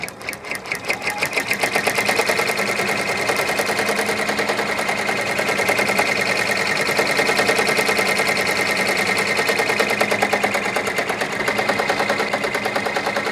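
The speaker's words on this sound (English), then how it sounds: "There's those underlay stitches stitching out." An embroidery machine stitches out a design's underlay stitches with a loud, fast and evenly rhythmic mechanical chatter that runs steadily throughout, close by and without talk.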